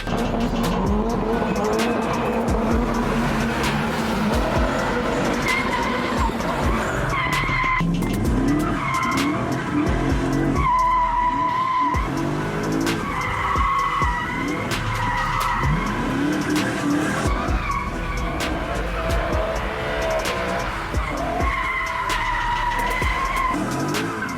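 Kia Pride rally car with a 1.6 turbo engine and Tuscani suspension parts skidding through a rally stage, loud continuous tire squeal and engine roar with repeated slides, no talk.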